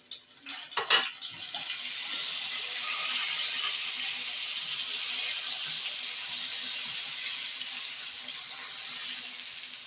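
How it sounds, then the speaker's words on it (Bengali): Bread toasts coated in yogurt and coriander leaves fry in hot oil, giving off a steady, airy sizzle that follows a brief clatter near the start. "দই মাখিয়ে যে টোস্টগুলো করে রেখেছিলাম ধনে পাতা দিয়ে, এগুলোকে এবার তেলে ভেজে নেব"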